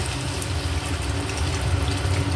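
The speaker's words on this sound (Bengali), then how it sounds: "এবার আমি এর মধ্যে জল দিয়ে দেবো আলুগুলো সেদ্ধ হওয়ার মতো" Water poured into a pot of potatoes cooked with spices, making a steady full gushing splash that runs unbroken and fairly loud at close range, with no talk.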